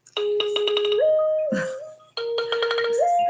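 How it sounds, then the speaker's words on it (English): A mobile phone ringtone goes off during a morning prayer broadcast, a bright repeating electronic melody of quick chimed notes playing twice with a short gap, moderately loud and without talk. "And I forgot to turn my phone off."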